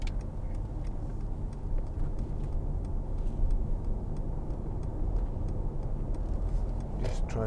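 A 2015 Mercedes-Benz C-Class accelerates along a road, its steady engine and road rumble heard from inside the cabin, with a faint rhythmic ticking running through the drone.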